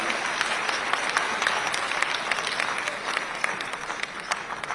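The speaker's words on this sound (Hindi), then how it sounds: "जोरदार ताली बजाकर आप लोग सब स्वागत करें" A large audience at a Chhattisgarh government event applauds Chief Minister Vishnu Deo Sai, sustained even clapping with sharp individual claps standing out from the steady roar.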